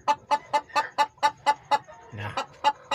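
A Bangkok breed hen clucks in a steady run of about a dozen short, rhythmic notes, close by, with a brief rustle partway through.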